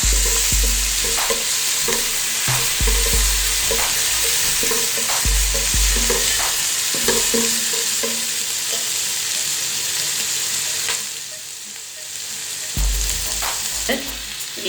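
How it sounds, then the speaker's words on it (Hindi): Ginger-garlic paste sautéing for kadu gosht, a gourd and meat curry: a steady loud sizzle fills the pan while a spoon scrapes and stirs in repeated strokes, briefly quieting near the end before picking up again. "अदरक और लहसुन का पेस्ट जो बनाया था वो भी इसके अंदर ऐड कर देना है।"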